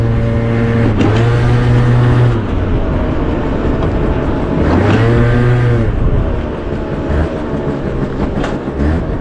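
An MBK Nitro scooter engine revs close by in the cold, surging up and dropping back twice in loud, buzzing bursts over a steady idle.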